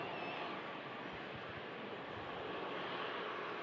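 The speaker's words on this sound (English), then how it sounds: "EasyJet just touching down." EasyJet airliner touching down at Manchester Airport, heard as a steady, distant broadband jet roar with a low rumble that holds evenly throughout, with no voices.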